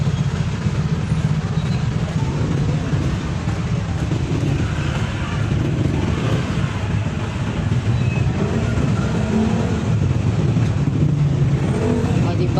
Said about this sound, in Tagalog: Maraming traffic.